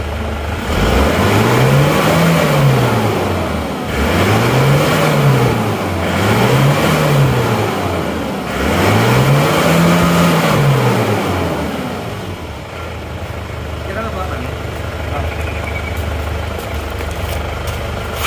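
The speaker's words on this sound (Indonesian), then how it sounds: "Coba kita geber-geber sampai garis merah" Diesel car engine revved repeatedly toward the redline, four loud rising-and-falling revs in a row, close up, before settling back to a rough idle.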